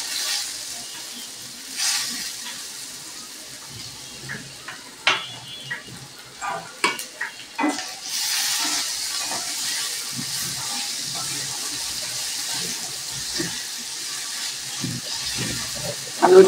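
Potatoes fry in a pan with ginger paste, giving a soft continuous sizzle, broken by a cluster of sharp stirring knocks and a rising hiss, quiet and close with no clear speech.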